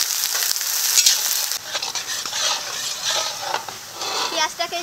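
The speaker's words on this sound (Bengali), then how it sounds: "পেঁয়াজটাকে এখন ভালো করে ভেজে নেব" Chopped onions fry in a hot pan for chicken curry, a loud bright sizzle that drops slightly partway through, broken by stirring and clattering, with faint background voices.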